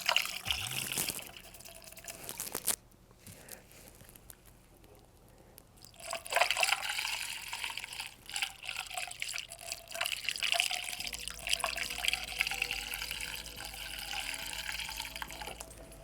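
Fuel pours through a funnel into a nearly one-gallon Motobecane moped tank, a steady liquid trickle and gurgle that fades briefly and then runs on continuously at close range, with no talking.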